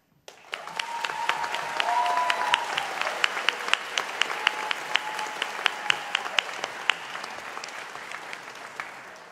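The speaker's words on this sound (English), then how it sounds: "Graduates, folks have been clapping for you and shouting and cheersing." A graduation ceremony audience applauding in a large hall, sustained clapping close and far with a few whoops and cheers rising over it, going on without pause.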